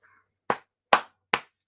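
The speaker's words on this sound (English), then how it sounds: "You get a round of applause for that one." Four sharp, evenly spaced hand claps, close and crisp, separated by silence, following a brief faint tone.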